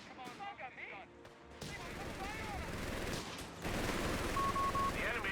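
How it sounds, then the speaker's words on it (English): Heavy machine gun fire in the strategy game Company of Heroes 3 during a 1v1 match, rattling bursts mixed with other battlefield gunfire at moderate volume beneath a commentator talking. "Heavy machine gun on the top side, stealing away territory"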